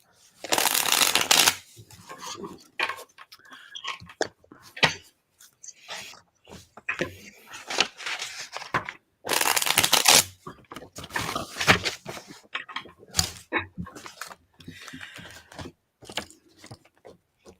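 Tarot cards are shuffled close by, with loud riffling bursts and softer repeated slips and taps of the deck over several seconds.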